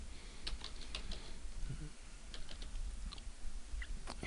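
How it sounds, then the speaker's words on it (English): Rapid, uneven clicking of a computer keyboard being typed on nearby, steady over a low background hiss. "If you're trying to listen to the clicks of my keyboard"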